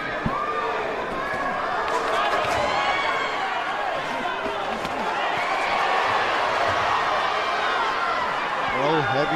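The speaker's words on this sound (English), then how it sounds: "heavy Puerto Rican crowd making all the noise at Turning Stone" A heavily Puerto Rican crowd roars steadily at a boxing match at Turning Stone, a loud, dense wall of cheering and shouting that fills the hall throughout, with commentators talking over it.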